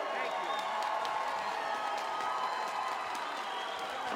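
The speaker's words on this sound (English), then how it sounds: "how about a round of applause for the fight of the year?" Crowd at a boxing match at Twin River Casino claps and cheers after an eighth-round TKO, a dense steady wash of applause with whoops and shouts throughout.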